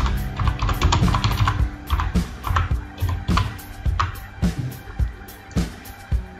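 Computer keyboard typing as a date is entered into an online registration form for the US visa lottery: quick, close, irregular key clicks in bursts, with no talking.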